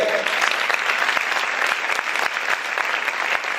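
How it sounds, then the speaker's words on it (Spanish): A church audience claps loudly and energetically, a continuous burst of applause with some sharper individual claps standing out. "Vamos a aplaudir fuerte al Rey."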